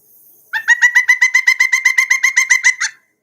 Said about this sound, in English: Here's another song or call that the pileated woodpecker makes.